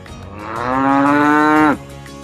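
A cow gives a single long moo that rises in pitch, holds steady and cuts off sharply, loud and close, with nothing else around it.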